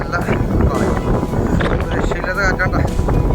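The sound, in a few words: strong wind at Ilavizha Poonchira hilltop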